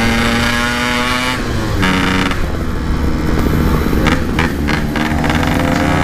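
A Yamaha RX King motorcycle engine under a rider's throttle on a straight road, a loud, close, buzzing drone that swells and eases with the throttle and holds without a break.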